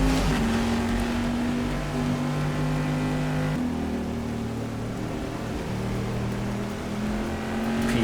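Several prototype race cars in rFactor 2 at a rainy Suzuka endurance race, engines droning steadily with shifting pitch as they pass through a corner, continuous and fairly loud with no talk.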